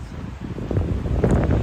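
Gusty wind buffets the microphone on a chilly trail on the Kaibab Plateau, a low rumbling roar that swells and surges unevenly, close and fairly loud, with no talk.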